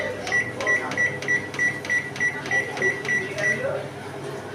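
A kitchen microwave oven being started for a mustard-oil baked bhetki fish, giving a series of about ten evenly spaced short electronic beeps over a low hum.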